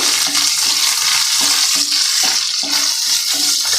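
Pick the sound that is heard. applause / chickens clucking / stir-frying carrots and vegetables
stir-frying carrots and vegetables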